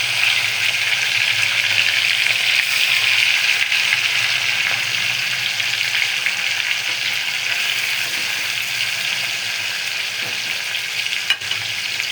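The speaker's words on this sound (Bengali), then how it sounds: "এই যে মাছটা ভাজছি" Marinated kalbaush fish frying in hot oil: a loud, dense, unbroken sizzle that holds steady throughout, with a faint click near the end.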